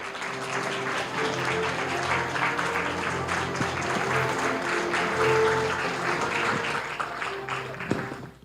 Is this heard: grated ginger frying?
no